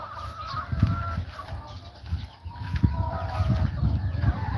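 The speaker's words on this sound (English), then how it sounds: "There's one of my hens." Hens cluck and honk in short, repeated bursts at moderate distance, a few birds calling over a quiet outdoor farm background.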